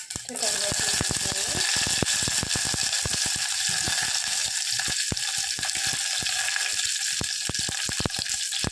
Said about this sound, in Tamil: எண்ணெய் காஞ்சி வச்சு கடுகு போட்டுக்கலாம்